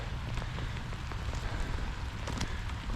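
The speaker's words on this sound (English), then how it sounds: "I tell you it's raining." Steady rain falling and pattering on surfaces outdoors, a dense continuous hiss with scattered close drops, even and unbroken throughout, no voices.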